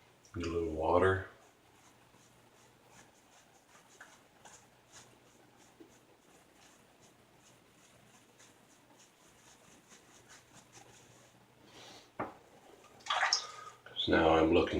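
Tap water runs briefly into a sink or bowl while shaving lather is being worked up for a straight razor shave, a short splashing rush at the start and again near the end, with quiet lather stirring in between.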